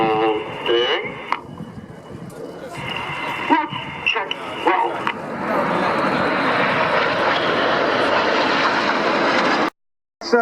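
Red Arrows jets fly a display at RNAS Yeovilton air day, their engines building from a varied passing rush into a sustained loud roar that cuts out sharply near the end, with a commentator talking over the noise.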